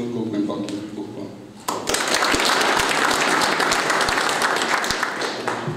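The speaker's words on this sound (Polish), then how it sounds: "Te zbiorcze oklaski niech ogarną wszystkich zaproszonych i tu i w kierunku głębokim" Someone speaks at a local sports awards gala, then a hall audience breaks into sustained group applause that starts abruptly and continues loud and dense to the end.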